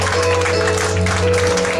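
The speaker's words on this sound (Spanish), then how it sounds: "Un fuerte aplauso al Señor" A church congregation applauding, a short burst of steady, dense clapping from many hands.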